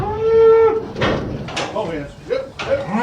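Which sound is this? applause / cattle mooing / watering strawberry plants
cattle mooing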